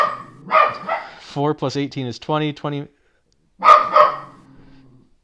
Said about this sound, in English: Oh, there's my dog.